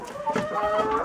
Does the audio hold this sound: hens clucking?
yes